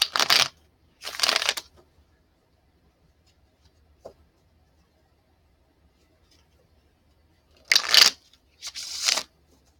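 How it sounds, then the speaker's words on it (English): Four short bursts of cards being shuffled, two near the start and two near the end, with a faint tap in the quiet middle. "I'm going to do a little bit more shuffling to show you that I am shuffling them on screen"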